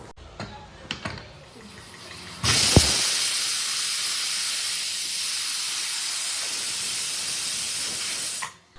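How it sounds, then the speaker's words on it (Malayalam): A pressure cooker cooking tapioca vents a loud, steady hissing whistle of steam that cuts in abruptly after a few quiet clicks and holds for about six seconds before stopping. "ഇപ്പോൾ 2 വിസിലൊക്കെ അടിച്ചിട്ട് കുക്കറിൻ്റെ പ്രഷറൊക്കെ പോയിട്ടുണ്ട്"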